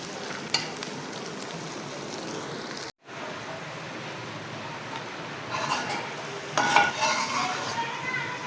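Onions fry in a pan for chicken qorma, giving a steady dense sizzle close by. Brief clinks and stirring scrapes of a utensil against the pan break in at intervals, with no talking over it.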